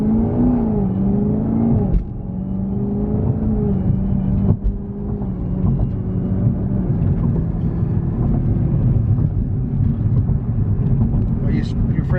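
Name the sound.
ZL1 car accelerating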